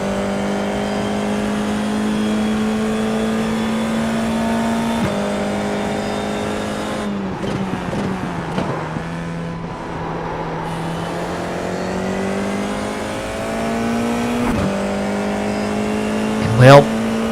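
FIA F4 race car engines in the iRacing sim, a steady high droning whine that holds pitch, drops sharply through a gearchange and climbs again, with other cars nearby and a brief squeal near the end.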